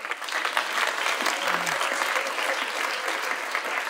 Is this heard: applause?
yes